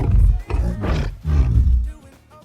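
A loud, close animal roar sound effect made with Reformer software, blending lion-like roars into two long swelling bursts that tail off at the end.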